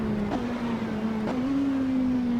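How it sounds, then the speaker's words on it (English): Porsche 918 engine in the racing game Assetto Corsa, a steady droning tone with two quick rev blips that lift the pitch slightly before it settles at a higher idle. "The revs pick up a little bit again, even after the initial blip from the engine."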